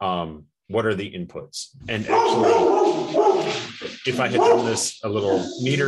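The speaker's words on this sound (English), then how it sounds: "Sorry about the dogs." Dogs bark and yip in the background of a room while someone talks steadily over them, the barks partly masked by his voice.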